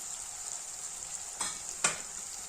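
Turmeric and basic spices fry in a pan for eggplant curry, a steady close sizzle with two brief sharp spikes near the end as something is stirred or added, no voices.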